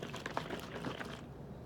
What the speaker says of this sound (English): This is the sound of the imaginary bucket.